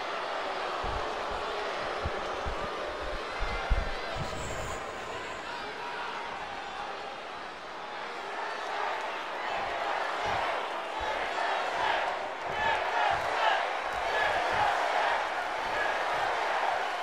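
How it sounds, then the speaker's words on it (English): Arena crowd in the WWE 2K24 wrestling video game roaring steadily during a wrestler's ring entrance, a dense sustained wash of cheering with thumping beats underneath, close and fairly loud throughout. "There's a palpable energy that races through a capacity crowd when Logan Paul heads into the ring to compete"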